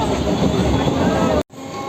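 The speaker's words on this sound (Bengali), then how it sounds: "ট্রেনটা চলে যাচ্ছে ওই ট্রেন চলে গেল" A Sealdah–Hasnabad local train departs the station with a loud, steady rumble and clatter of wheels and carriages close by, which cuts off abruptly near the end.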